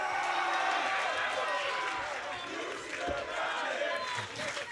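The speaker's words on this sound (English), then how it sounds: "You hear the crowd here." Crowd at a TNA wrestling match in Chicago cheering and shouting in a dense, continuous roar, with commentators talking over it.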